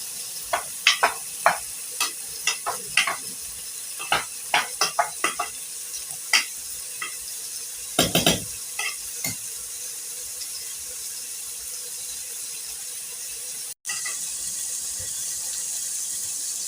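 Rice being stirred in a cooking pot for a family meal: a run of sharp spoon scrapes and clinks in irregular bursts over a steady background hiss, close by, with one louder cluster partway through before the strokes thin out.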